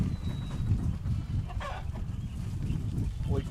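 Chickens cluck softly in short bursts on a homestead over a low, steady rumble of background noise.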